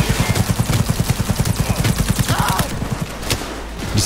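Rapid automatic gunfire from a smart-ammunition weapon in the video game Cyberpunk 2077, a dense stream of fast, evenly spaced shots for about two and a half seconds, then tapering into scattered impacts and noise.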